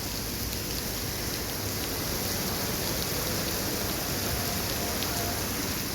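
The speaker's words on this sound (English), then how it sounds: "It's raining." Steady rain falls at night, a dense, even hiss with no distinct drops, continuous and fairly close throughout with no voices.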